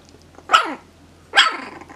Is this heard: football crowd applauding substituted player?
no